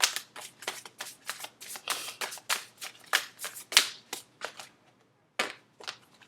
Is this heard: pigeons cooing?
no